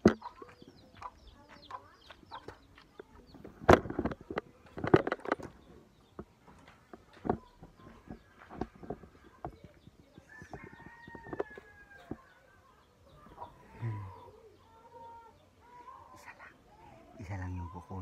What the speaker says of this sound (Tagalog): may nakita ako doon sa kusina may nangingitlog na mga manok